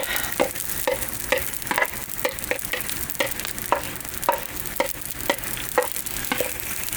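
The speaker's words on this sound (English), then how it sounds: "So we'll use our spoon, get that sauce out of there." A spoon scrapes pizza sauce out of a pot beside a Blackstone griddle while a gluten-free pepperoni and basil pizza is made, with rhythmic clinks and scrapes about twice a second over a faint sizzle.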